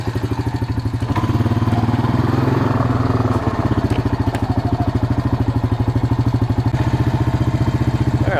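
A Honda Rancher 350 quad engine runs smoothly at close range, a loud, steady putter whose pitch rises briefly as it revs before settling back to an even idle.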